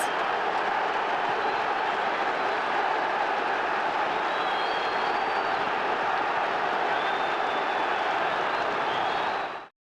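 A stadium crowd in a football video game makes a dense, constant roar of cheering and murmur with faint whistle-like streaks above it, loud and unbroken throughout.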